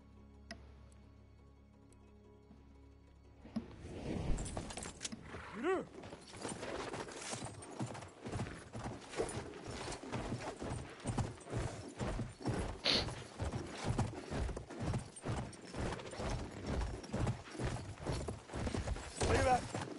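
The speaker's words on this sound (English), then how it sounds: "I'm gonna get a horse." A horse in the video game Battlefield 1 breaks into a gallop after a quiet opening, its rapid rhythmic hoofbeats loud and continuous for the rest of the stretch, with faint game noise underneath.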